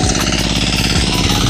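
Motorized grass cutter buzzing loudly and steadily through tall grass in a rice field, a close, harsh engine drone with a pulsing, rattling texture and no talk over it.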